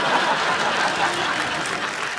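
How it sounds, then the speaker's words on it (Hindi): Dense, steady studio audience applause on a Hindi celebrity comedy talk show, a continuous wash of many hands clapping at even loudness throughout. "जोरदार तालियां।"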